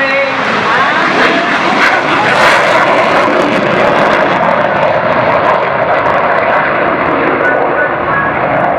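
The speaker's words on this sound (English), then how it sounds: "And here it goes, rolling down the runway." A HAL Tejas fighter jet of the Indian Air Force rolls down the runway at an air show, a loud steady engine roar filling the whole stretch, with a voice talking over it.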